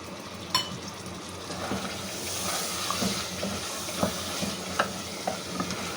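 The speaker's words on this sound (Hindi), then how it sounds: "अब हम इसमें ये जो हमारे पास हाफ कप दही है ये इसमें डाल के देंगे" Half a cup of yogurt going into frying mutton curry in a pot, a steady sizzle and hiss under a few scraping spoon strokes and light clinks, close by with no talk.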